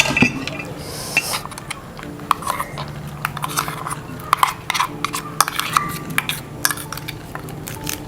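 Ground spice paste and shallots stirred in a clay pot while cooking sardine curry, with repeated clinks and scrapes of a utensil against the pot in an irregular rhythm, fairly close and moderately loud.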